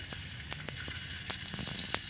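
Cumin seeds sizzle in hot oil in a pan as a gravy base is started, a steady soft crackle with scattered small pops at close range and no voices.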